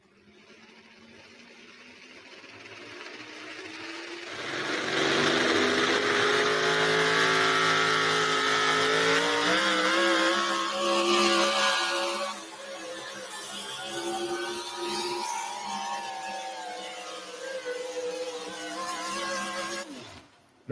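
A light super stock truck at a truck pulling competition roars under heavy load, the engine climbing to a loud sustained howl, easing briefly, then pulling hard again before cutting off; no talking.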